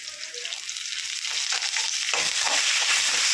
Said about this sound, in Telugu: ఇలా ఫ్రై అయ్యాక ఇప్పుడేమో కరివేపాకు కూడా వేగింది కదా